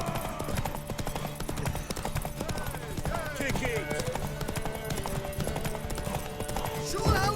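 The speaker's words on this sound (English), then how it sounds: "Want that horse, don't ya?" Horse hooves clip-clopping in The Witcher 3, a steady quick rhythm close by under a busy game soundscape, with a voice talking over the hoofbeats and a brief whinny-like sound.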